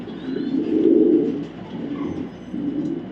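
A red checker female racing pigeon coos close by in low, throaty rolling phrases, one swelling louder in the middle and others following in a slow rhythm.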